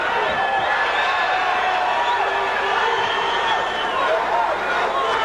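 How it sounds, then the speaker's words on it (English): A packed boxing arena crowd roars and cheers for a 19-year-old fighter at the Rick Roufus vs Tommy Richardson bout, a steady dense wall of voices and shouts sustained throughout. "Just listen and enjoy how much this crowd appreciates this 19-year-old."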